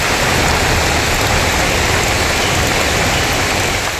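Heavy rain during a storm with strong wind, a dense, loud, steady roar of rainfall that fills the whole stretch without a break and eases very slightly at the end; no speech.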